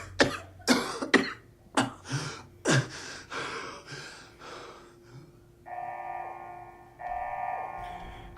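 A character in the Fallout 4 video game coughs and gasps in a rough run of bursts, followed by a steady alarm-like electronic tone sounding twice.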